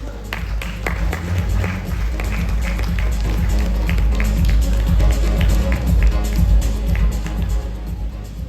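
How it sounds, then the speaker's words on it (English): Applause from an audience at an awards ceremony, sustained dense clapping with a crowd murmur that swells slightly and carries on loudly throughout. "Big round of applause."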